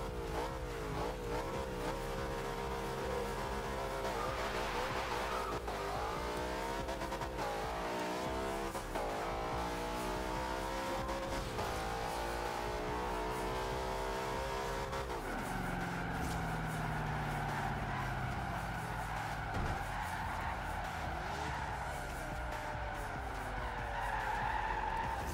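Cars launch one after another at a car meet, engines revving hard and tires squealing and skidding in a loud, continuous roar for about 25 seconds, with pitch sweeps as the cars accelerate away.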